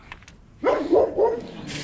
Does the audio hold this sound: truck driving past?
no